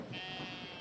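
A sheep in the video game Brothers: A Tale of Two Sons gives a short, quiet bleat, a single faint wavering cry standing alone.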